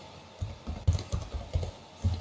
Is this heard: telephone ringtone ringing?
no